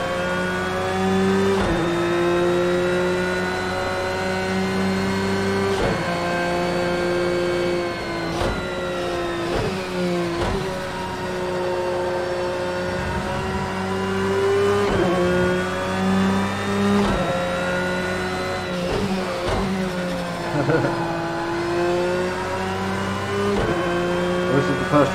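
A Cadillac race car engine in Project Cars 2 revs steadily and climbs through gears, with sharp shifts and rising whine, loud and continuous throughout.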